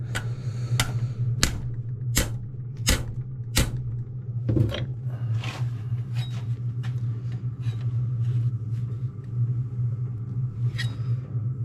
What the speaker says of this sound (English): Let's persuade that with the hammer.